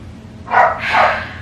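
Pepper, a pet dog, lets out two quick barks close by, the second one longer and a bit louder, over a low indoor hum.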